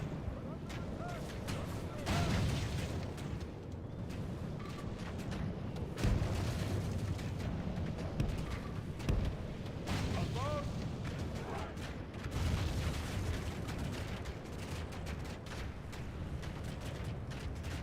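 Troops fire on enemies atop castle walls in Total War, with rolling volleys of gunfire and booming battle noise that swell and fade, and someone talks over the din.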